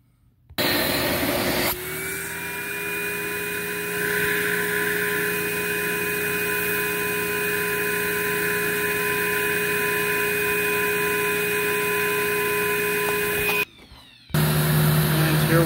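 A Simplicity 7350 vacuum cleaner starts up and runs at a steady loud roar with a high whine, then briefly cuts out near the end before restarting.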